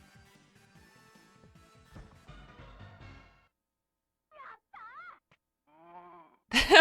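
In the Digimon World video game, a deep, sheep-like bleating call comes as a few short, warbling moans between quiet stretches of game sound, followed by a sudden louder burst at the end.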